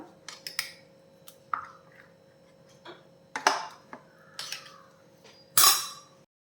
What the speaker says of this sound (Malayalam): ചേർത്ത് കൊടുക്കും ചേർത്തിട്ട് നമുക്ക് മിക്സ് ചെയ്യാം